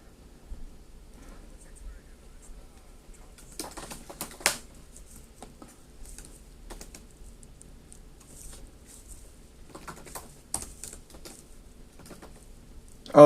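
Computer keyboard typing during a sports talk show, coming as sparse, quiet clusters of key clicks with long gaps between them and faint low background hum.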